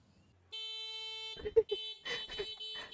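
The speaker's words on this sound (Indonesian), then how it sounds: "Diklakson lagi." A car horn sounds a long sustained honk in a street setting, followed by short broken bursts mixed with people talking over it nearby.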